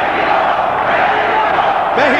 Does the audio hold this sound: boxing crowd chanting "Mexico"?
yes